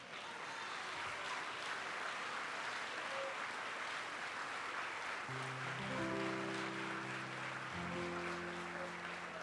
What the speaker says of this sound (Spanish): Aleluya, denle un aplauso al Señor.